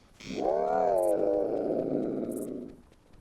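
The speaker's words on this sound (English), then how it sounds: "That is the most alien-sounding call I've heard yet in any of the Carnivores mods. I'm sorry, it sounds like a weird cat monster hybrid thing." A Spinosaurus call from the Carnivores 2+ game mod, a single loud, close, wavering roar with a cat-like yowling tone that swells and then fades away over about three seconds, with no talking.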